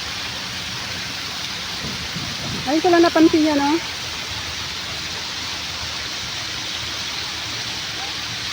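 A fountain pours like a small waterfall in Khalifa park in winter, a steady rushing splash that runs throughout while someone speaks briefly near the middle.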